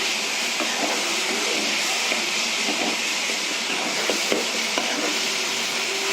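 Cooked Chennai-style kara chutney stirred in a pan with the stove just off, a continuous broad sizzling hiss under scattered soft scraping knocks of the spoon, close and steady.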